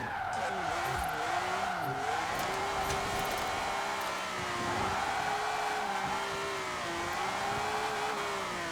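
A turbocharged BMW engine in Forza Horizon 4 revs and pulls hard under acceleration, holding a steady loud drone with rising and falling tonal sweeps from shifting gears, mixed with tire squeal throughout.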